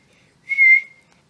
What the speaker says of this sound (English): The lifeguard heard her and blew his whistle.